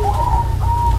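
Colored zebra doves (perkutut) coo in a breeding farm with hundreds of cages, two smooth rising-and-falling calls close by over a steady low background hum.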